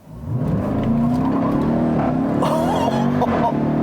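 A 2018 Jeep Trackhawk with 707 horsepower launches with the throttle floored, its engine surging from a quick rise into a loud, sustained roar with climbing revs, heard from inside the cabin.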